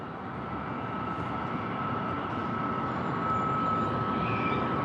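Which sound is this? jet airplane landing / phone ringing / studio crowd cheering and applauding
jet airplane landing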